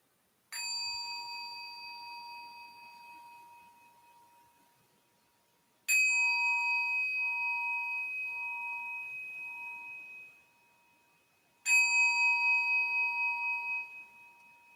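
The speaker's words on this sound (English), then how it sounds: "So listening to 3 bells, being present right here and now." Meditation bell struck three times during a guided meditation session, each clear metallic ring ringing out alone and decaying slowly over several seconds in a quiet room, with long gaps between strikes.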